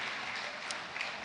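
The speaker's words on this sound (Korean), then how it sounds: "네, 그만 이제 박수로 격려해 주시면 좋겠습니다." A church congregation at a Korean worship service claps in encouragement, a short, moderately quiet patter of many hands with a couple of sharper claps standing out.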